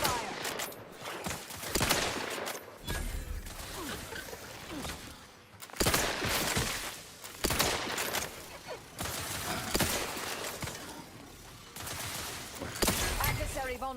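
Video game gunfire from The Outer Worlds 2, dense bursts of shots and clattering fire in repeated loud volleys, with brief lulls between them and voices speaking partly under the din.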